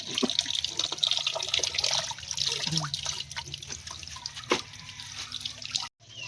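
Water runs and splashes from a household tap, an uneven near trickle with drips and splatters that eases off toward the end before a brief cutoff.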